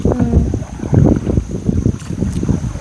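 A fishermen's country boat passes on the water near Ayyappancovil, making a rough, close rumble and splashing while wind buffets the microphone.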